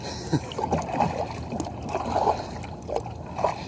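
A kayak paddle dips and pulls through the water of Lake Erie in steady strokes, with close splashes and trickling drips between them against a soft open-air background.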